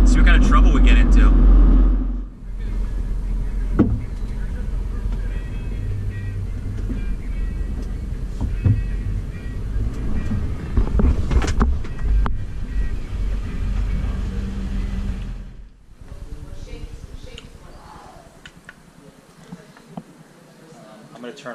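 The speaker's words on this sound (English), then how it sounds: "So we're gonna drive a little down the road" A car driving down a road, with a steady low engine and road rumble running throughout, briefly cutting out near the start and again toward the end, while people talk inside the vehicle.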